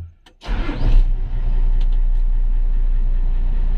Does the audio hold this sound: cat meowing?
no